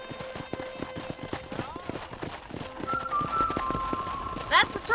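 Horse hooves clip-clop in a steady rhythm while riding in Red Dead Redemption, joined by a brief whinny near the end, with game dialogue and music under the footfalls.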